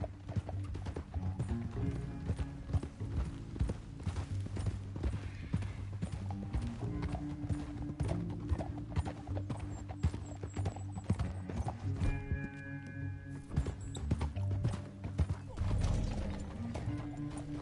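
Horse hooves clip-clop steadily at a riding pace in the Western video game Red Dead, set against a dense bed of game music and ambience, with occasional faint whinnies and no talk.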